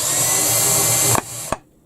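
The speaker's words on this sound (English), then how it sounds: "But I fear my drill battery is running out." A cordless drill with a low battery drives screws into a wooden beam. The motor whines loudly and steadily, then cuts out, followed by a short final burst and a click.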